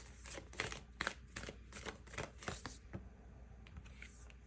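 Oracle cards shuffled by hand in a quick series of crisp riffling bursts and soft slaps, close and fairly quiet, with no talking over them.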